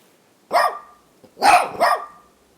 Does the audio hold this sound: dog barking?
yes